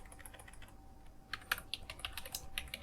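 Typing on a computer keyboard while building an Excel dashboard, a run of light, quick clicking keystrokes close to the microphone over a faint steady background hum, with no voices.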